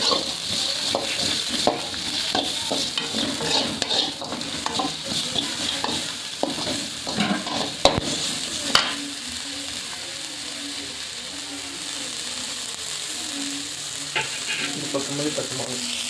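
Large onions sizzle in a pan with coarse rock salt while a utensil scrapes and stirs them in irregular knocks, the frying hiss continuing steadily underneath.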